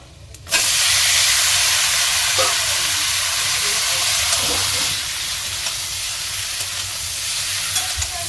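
Potatoes hit hot oil in a frying pan with a sudden loud sizzle that settles into a steady, close hiss lasting several seconds, with faint stirring clinks over it.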